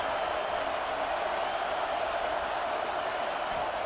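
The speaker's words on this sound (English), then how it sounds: "Listen to the crowd energy here in the early going." Stadium crowd roar from a College Football 26 simulation of Tennessee Vols versus Alabama Crimson Tide, a steady, dense wash of cheering that holds at an even level throughout with no talk in the clip.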